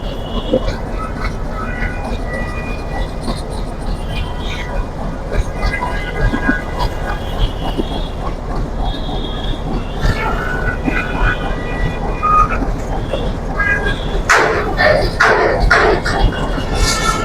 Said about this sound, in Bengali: এখন ট্রেন এটা ছেড়ে দিবে ছেড়ে দিয়ে এটা তার যে স্থানে যেখানে যাওয়ার এটা চলে যাচ্ছে